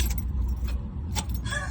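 Keys jangle as a key is turned in the ignition of a car on a muscle car road tour, the starter failing to fire. The rattle sits close over a steady low hum, with a couple of brief brighter clicks.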